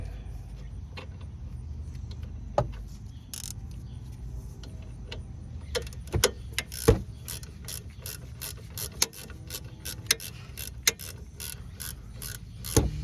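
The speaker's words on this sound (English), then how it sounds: "I'll go get my socket, or my ratcheting wrench." A ratcheting wrench works on a brake caliper bolt of a 2003-2008 Ford Focus front brake, making quick clicking ratchet runs and metallic ticks up close in a quiet garage, with brief talk.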